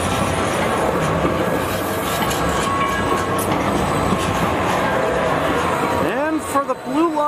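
A three-car Salt Lake City Blue Line light rail train rolls past close by, its steady rumble and wheel clatter filling the scene, with squeal tones rising near the end.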